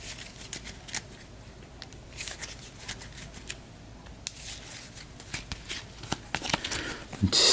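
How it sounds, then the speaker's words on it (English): Soft riffling and flicking of cards being shuffled, a series of quick papery bursts at low volume, ending with a louder snap. "I'll give my deck a shuffle."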